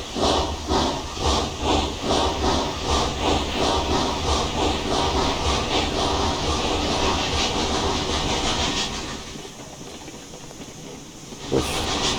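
Steady rhythmic steam chuffing from a locomotive in the video game Railroads Online, loud and regular with hissing, fading out toward the end before a brief click.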